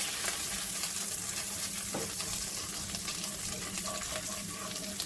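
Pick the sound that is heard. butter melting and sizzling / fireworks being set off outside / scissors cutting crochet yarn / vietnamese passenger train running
butter melting and sizzling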